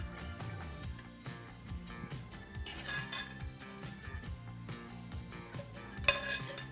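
Sautéed artichoke florets and button mushrooms are stirred in a buttery pan, with a soft sizzle under scraping and occasional clinks of a utensil against the pan, close and fairly quiet.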